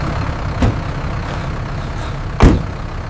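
Trucks stopped at a police checkpoint idle with a steady low engine rumble, broken by two short, louder thumps near the start and near the end.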